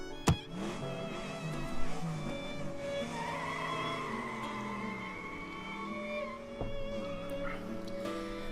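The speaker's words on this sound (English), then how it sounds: "As I'm watching JB's car screech off into the distance" A car squeals its tires as it pulls away toward the distance, a long sustained screech with shifting pitch that stays at a fairly steady level and does not fade away.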